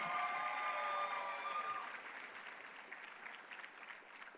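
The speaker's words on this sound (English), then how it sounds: "Another round of applause." Festival audience gives a round of applause, a broad wash of many hands clapping that starts under fading music or a voice and continues steadily, slightly distant and moderate in loudness.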